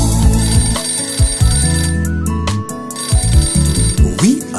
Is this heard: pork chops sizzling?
no